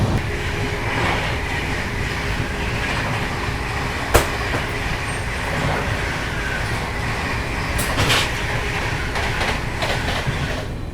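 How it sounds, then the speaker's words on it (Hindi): The August Kranti Tejas Rajdhani rushes past during a crossing, heard from aboard another train as a loud, steady roar of wheels on rails with rhythmic clatter, a sharp metallic bang partway through and brief squeals near the end. "तो अभी क्रॉसिंग दिखाने की कोशिश करते हैं आप लोगों को अगस्त क्रांति तेजस राजधानी के साथ"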